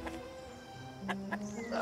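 A rooster clucks a few times in the Mokoko village of Tortoyk in the video game Lost Ark, short bursts over a steady game soundscape with music, moderately loud.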